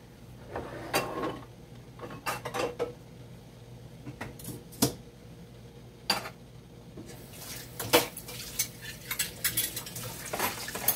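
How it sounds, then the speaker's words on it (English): Carrots go into a pot of wonton soup, with scattered clinks of utensils against metal, light scraping and clattering knocks, sharper clusters of taps near the end, and a low steady hum underneath. "I'm just gonna add the carrots to this now"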